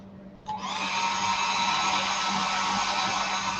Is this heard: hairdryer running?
yes